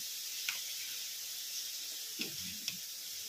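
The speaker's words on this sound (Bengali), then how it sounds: "এটাও ফুটছে।" Khichuri of rice with cauliflower and peas cooking in a full pot, giving a soft steady hiss and simmer with a few faint bubbling pops and clinks, no voices.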